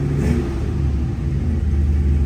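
A 1984 Shelby Cobra replica engine runs steadily at a strong idle, a loud, continuous low rumble close by with a slight rev swell near the start.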